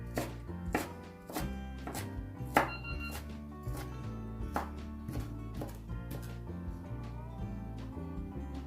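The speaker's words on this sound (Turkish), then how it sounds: "Diğer tarafta da hemen bunları da doğrayayım" A knife chops herbs steadily on a cutting board, a series of sharp, regular thuds close up over soft background music.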